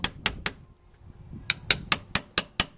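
A hammer strikes a cold chisel on a 2018 Ski-Doo snowmobile slide, with sharp metallic blows, three quick ones, a pause, then a rapid run of seven evenly spaced hits, close and ringing.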